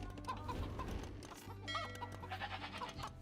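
A man imitates chicken clucking with his voice, mimicking the farm chickens of Age of Empires: a series of short, close clucks and warbling bird-like calls over a couple of seconds.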